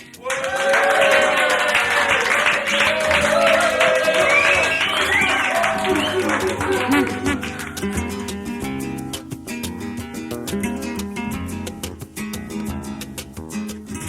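Prison inmates at a radio broadcast clap along in a quick rhythmic beat under music, the claps growing sharper once the singing gives way to the instrumental.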